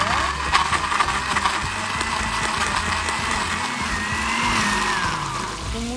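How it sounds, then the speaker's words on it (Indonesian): A kitchen blender grinds about four cut red chilies with coconut milk and spices into a paste, a loud continuous whirring drone with a gritty, slightly wavering texture throughout. "Ini kita blender."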